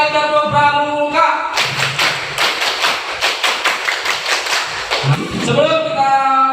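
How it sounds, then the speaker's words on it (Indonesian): A school class does the Pramuka scout clapping cheer, tepuk pramuka: a quick series of about ten even, loud claps between a teacher's spoken lines. "Sekali tepuk pramuka."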